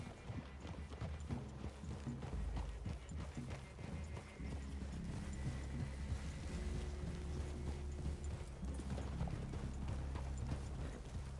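Several horses walk with dense, overlapping clip-clopping hooves, close and continuous, amid creaking tack and steady outdoor background noise.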